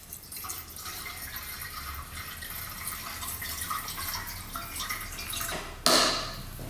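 Gasoline trickles back into a scooter's fuel tank in a steady, faint liquid patter, ending with a sudden splashy burst.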